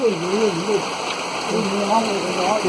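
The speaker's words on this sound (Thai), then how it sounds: "ขนาดแสงสว่างเข้านี่ฝนตกมืดเลยนะ" Heavy rain pours in a steady, dense wash of noise, with a voice speaking over it throughout.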